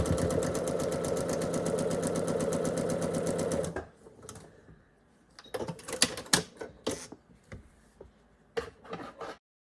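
A sewing machine runs fast and steady for almost four seconds while stitching quilt pinwheel block pieces, a close rapid mechanical chatter, then stops and is followed by scattered handling clicks and rustles.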